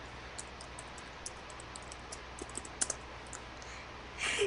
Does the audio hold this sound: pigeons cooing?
no